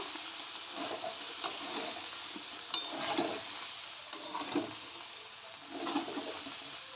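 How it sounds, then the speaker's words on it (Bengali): Crab curry stir-fried in a pan, a low sizzle broken by irregular spatula scrapes and knocks against the pan. "আমি কাঁকড়ার তরকারি দেখো বসিয়ে দিয়েছি আর এখন কষাচ্ছি"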